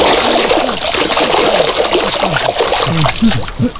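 Water poured and splashing onto sleeping people, a continuous close trickling, splattering stream lasting several seconds with a few faint voices underneath.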